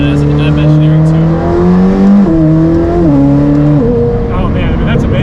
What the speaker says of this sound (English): There's some pops and crackles from that exhaust.